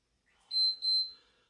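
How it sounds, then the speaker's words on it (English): Two short high-pitched electronic beeps from a timer at a gym in quick succession, fairly clear against a quiet background. "I'm waiting for the beep."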